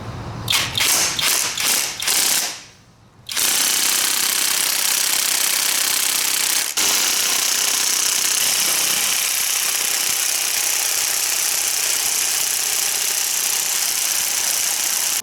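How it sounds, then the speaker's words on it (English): An impact wrench hammers in rapid bursts on the brake pad holder screws of a Yamaha Banshee, then a loud sustained whir and rattle takes over and runs steadily to the end, with no talk. "It's not worth it, I'll use the impact."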